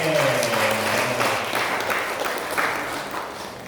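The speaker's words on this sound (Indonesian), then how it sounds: "Tepuk tangan untuk beliau." An audience in a school strategy meeting claps together in a dense, even wash of applause that fades slowly over a few seconds, close and fairly loud, with a faint tone at the start.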